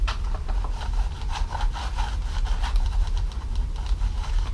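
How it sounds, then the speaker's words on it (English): A hand rubbing a lot of art medium over a journal page to keep it from sticking, a steady close dry scrubbing with quick back-and-forth strokes and no pauses. "Let's say I took a lot of medium in my hand. I just rub it with my hand,"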